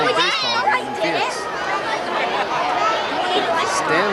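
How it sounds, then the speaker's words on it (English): Large crowd packed with children chattering and shouting in the stands at a minor league baseball game on Little League night at Phoenix Municipal Stadium, a steady lively babble with high kids' voices rising throughout. "This is a very good crowd for a minor league baseball game in Phoenix."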